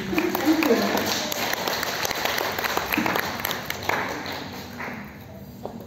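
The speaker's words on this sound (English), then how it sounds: "Let's give a round of applause, please." An audience at a Mother's Day gathering breaks into moderate applause, with scattered claps and some background voices over the stretch, the clapping thinning toward the end.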